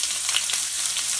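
Scallops sear in a very hot pan with a little oil, giving a steady, close, loud hiss of sizzling and frying that runs unbroken with no voices.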